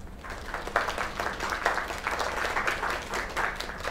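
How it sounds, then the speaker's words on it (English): Crowd applause in a video game, a dense steady wash of clapping lasting throughout, moderately loud and close. "Another round of applause."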